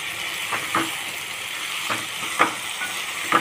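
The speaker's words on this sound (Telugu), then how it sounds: "చిక్కుడుకాయ అనేది ఇట్లా మంచిగా అయినాక ఒక 10 నిమిషాలు మంచిగా నూనెలో మగ్గాలి" Broad beans frying in oil in a village kitchen, a continuous soft sizzle with several scraping stirs of a spoon against the pan at irregular intervals, close and alone without talk.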